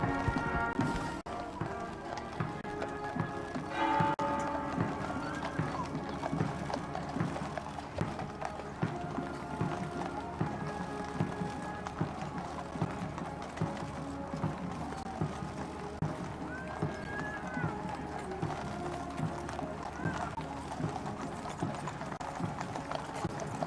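Steady clip-clop of many horses' hooves on a hard surface at a slow walking pace in a funeral procession on the Long Walk, Windsor, continuous and moderately distant, with faint crowd murmur underneath.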